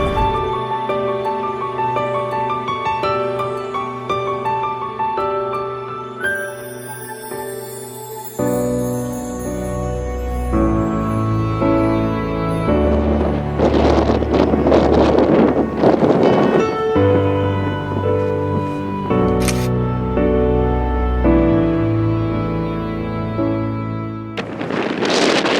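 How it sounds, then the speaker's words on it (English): Wind at Pinnacles in Western Australia, a steady rushing gust noise buffeting the microphone under a loud sustained musical score, strongest in surges midway. "one factor I hadn't really considered is the wind."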